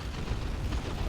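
Bomb blasts in the strategy game Dawn of War 2, a dense, continuous low rumble of explosions and booming bursts filling the whole moment, fairly loud with no talking over it.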